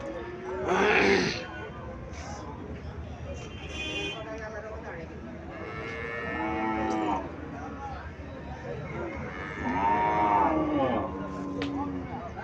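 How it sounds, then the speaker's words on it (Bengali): An Indian Haryana cow at a cattle market in Comilla moos several times in long, drawn-out calls, close and fairly loud, spread across the stretch with people talking in the background. "এখানে একটা গাভী দেখা যাচ্ছে"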